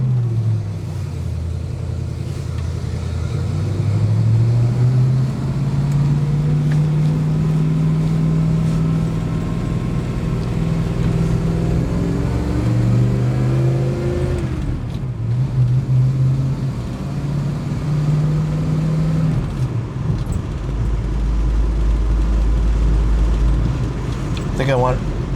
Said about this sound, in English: We're going to go into first gear and off we go.